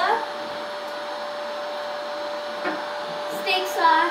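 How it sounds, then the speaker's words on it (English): A vacuum cleaner drones steadily nearby with a constant whine, loud and unbroken, while a brief voice rises over it near the end. "So he's vacuuming right now."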